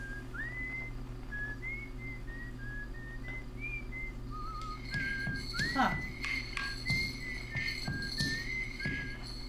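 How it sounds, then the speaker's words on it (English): Thin wavering whistle tones picked up on the signalscope in the Outer Wilds video game, a drifting melodic line running throughout over a steady low hum, with static crackle and a brief spoken interjection partway through. "so you can hear the whistling"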